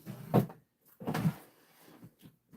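A drawer or cupboard being pulled open indoors, two fairly loud scraping-thump movements close by followed by quieter rustling, with no talk over it.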